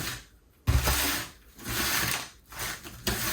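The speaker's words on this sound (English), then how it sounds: "now I'm just mixing this wet media in with the dry media, or the drier media" A hand tool works wet and dry chunky potting soil mix together, giving repeated close gritty scraping and rustling strokes in a slow rhythm with short pauses.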